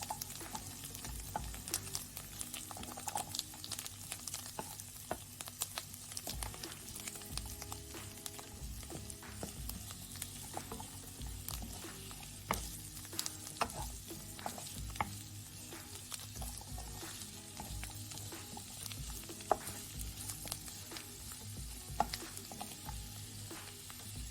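Carrots fry with coriander and garlic in a pot for Lebanese pea stew, a continuous close sizzle with scattered stirring scrapes and taps running throughout, no one talking.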